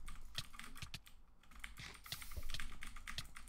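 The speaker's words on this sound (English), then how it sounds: "sorry for the keyboard noise, because I know that it's super loud" Loud computer keyboard typing during a Hypixel Duels game session, rapid irregular clacking keystrokes close to the microphone with brief pauses, no voices.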